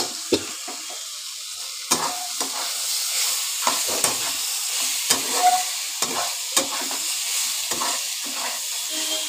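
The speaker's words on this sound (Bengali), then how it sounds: "সব ভালো করে ভেজে নেব" Soybean chowmein with vegetables stir-fries in a pan under a steady hiss, broken by repeated spatula scrapes and knocks against the pan at an uneven rhythm.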